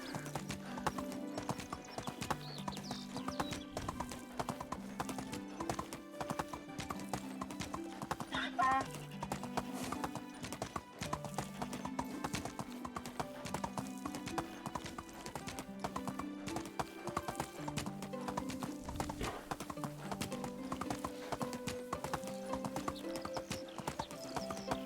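Steady rhythmic hoof clip-clop of a donkey moving through a video game, looping continuously over background game music, with a voice talking now and then.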